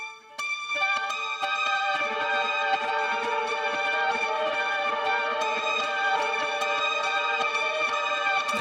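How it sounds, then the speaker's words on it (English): Reverse reverb effect from an Empress guitar pedal, a sustained shimmering wash of swelling harmonic tones that blooms after a quiet start and holds steady and loud throughout, with no talking. "Let's check out reverse reverb."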